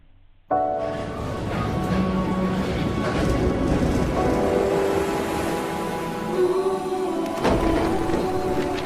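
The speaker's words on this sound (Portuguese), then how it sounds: "Já começamos a ver a tal chuva." Steady rain with low thunder rumbles from a soap opera trailer, dense and continuous at moderate loudness, with music tones and faint voices mixed in and a louder rumble near the end.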